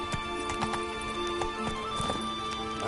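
Geralt's horse Roach gallops in The Witcher 3, a steady rapid clip-clop of hooves over a dense bed of game ambience and tonal music, moderately loud, with no talking.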